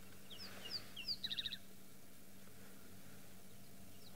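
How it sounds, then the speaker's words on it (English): Wild bird in the African bush giving a short series of high, quick chirping calls that end in a rapid run of notes, faint and fairly distant over a low hum, then quiet. "You heard that bird?"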